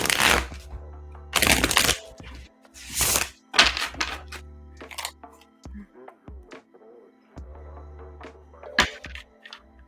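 Tarot cards get riffled and shuffled in a handful of sharp, crackling bursts with soft taps and thumps between them, close by and fairly quiet.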